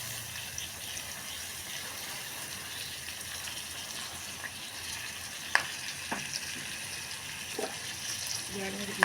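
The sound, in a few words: onions frying in a pan with spices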